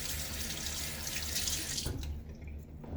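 A faucet runs steadily into a sink as a shaving brush handle is rinsed under the stream, close and continuous, then the flow thins toward the end.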